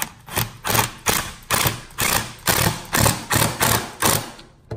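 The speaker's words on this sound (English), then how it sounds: "I'm gonna take my Phillips head screwdriver and secure it in the nut, and then I'm gonna tighten this thing down." A Phillips head screwdriver tightens the nut on an aluminum pedal in a Fiat 500 Abarth, making about ten evenly spaced, loud grinding strokes in a steady rhythm.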